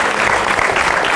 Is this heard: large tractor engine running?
no